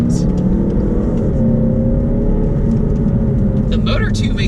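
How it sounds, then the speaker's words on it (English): A turbocharged four-cylinder engine in an all-wheel-drive Mazda3 drones deep and steady from inside the car, with a slowly rising whirring tone and a few faint sounds near the end. "The motor too makes a really nice deep sound to it."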